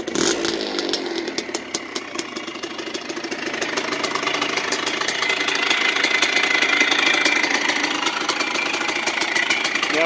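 A small 175 motorcycle engine idles close by, a rapid, buzzy, rattling putter that holds steady and grows slightly louder over several seconds.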